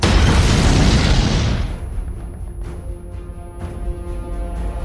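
Bomb blast in a war film: a loud, close boom with a broad roar that fades after about two seconds into scattered crackles and debris thuds.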